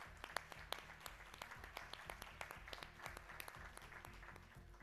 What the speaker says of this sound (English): Let's show them our appreciation with your applause